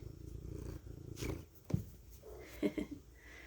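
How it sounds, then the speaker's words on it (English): A cat named Lucy purrs softly and close, a low rumbling murmur with a few small snorts and rustles, faint overall and with no talking. "You can hear her purring."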